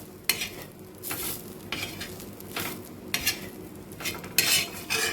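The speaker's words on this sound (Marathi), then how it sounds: "कांद्याबरोबर आपला खोबराही छानपैकी भाजून झालेला आहे" Onion and grated coconut roast in a pan for a black pea curry masala, a utensil scraping and stirring in short bursts over a low sizzle, close by.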